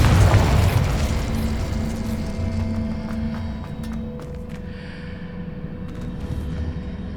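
A Confringo spell blast from Hogwarts Legacy erupts as a loud, low boom at the outset, then rumbles on beneath layered game music and ambience for several seconds.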